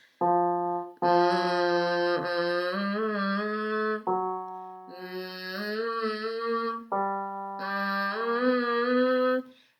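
A soft, closed-mouth hum holds a few sustained low notes, pausing briefly between phrases, close and steady with no other sounds.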